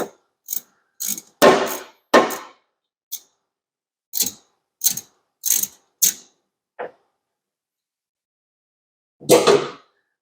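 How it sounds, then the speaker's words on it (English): A hand ratchet loosening the upper steering shaft bolt on a Squarebody truck, with short bursts of close clicking separated by pauses, about a dozen sharp bursts over the stretch, no talking. "First, we'll remove this upper bolt."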